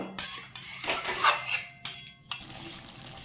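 A spoon stirs a cauliflower and yogurt curry in a metal pan, giving a series of close, irregular clinks and scrapes, some sharp and some softer, with brief quiet gaps between them.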